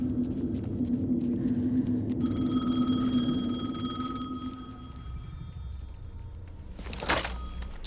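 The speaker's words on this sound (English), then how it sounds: "The phone again." A telephone rings in the video game Alan Wake 2, a repeating electronic bell tone heard clearly over a low droning ambience before fading, followed by a sharp thump near the end.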